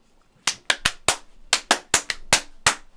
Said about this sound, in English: Okay, that was one clap.